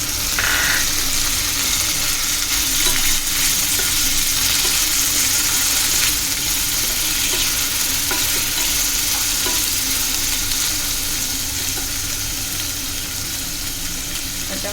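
Onion and tomato fry in a pan for stuffed brinjal (bharlela vanga), giving a continuous close sizzle and hiss that stays even throughout and fades slightly toward the end.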